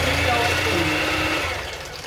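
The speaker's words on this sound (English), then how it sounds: "Okay, now we're going to mix this in." Electric mixer whirring steadily through butter cookie dough with almond extract, a continuous motor hum that fades slightly toward the end.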